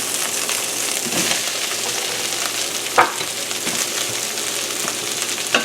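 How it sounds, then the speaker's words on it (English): Mushrooms dropped into a pan of sauteing asparagus set off a steady, loud sizzle with crackling spits and a few sharp pops from the cookware. No one speaks. "our asparagus has been sauteing for a while, and I'm going to add my mushrooms"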